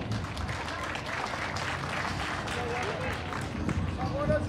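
Steady applause from a crowd fills the space, dense overlapping claps with some murmuring voices underneath, continuing throughout.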